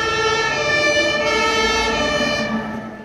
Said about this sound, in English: Miss Rabbit puts on the siren and drives them to Peppa's house.